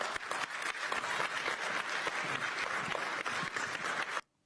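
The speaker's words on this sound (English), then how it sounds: "The host laughs, and they applaud him." An audience applauds the host of a talk show, steady close clapping that fills the room for several seconds, then stops abruptly with no voices over it.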